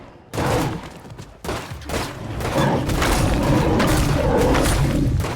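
Heavy gunfire in the video game State of Decay 2: loud, dense bursts of rapid shots that start abruptly, pause, then build into a sustained roaring volley.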